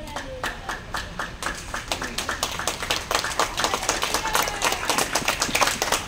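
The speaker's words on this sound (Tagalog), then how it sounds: "Ganyan lang po talaga ang palakpak ng mga bata" Many small hands clap together in a fast, uneven patter, a crowd of children applauding at close range.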